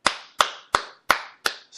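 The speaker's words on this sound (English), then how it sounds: "Every executive on stage, the CEO, the CFO, 2 VPs, the 2 co-founders applaud the employee." Five sharp, evenly spaced hand claps ring out one after another in a slow, deliberate rhythm, each crisp and close with a short decay, no other sounds between them.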